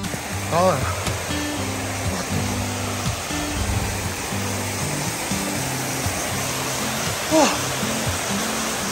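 A waterfall in hilly country near a tented resort in Trang, Thailand, a steady, broad rushing roar that runs throughout, with background music and a few brief voices over it.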